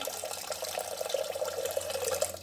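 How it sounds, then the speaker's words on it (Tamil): Water poured steadily over washed moong dal for sambar, a continuous splashing and gurgling stream lasting the whole stretch, close by with no talk. "இப்போ தண்ணி ஊற்றி வைக்கலாம் ஒரு விசிலுக்கு."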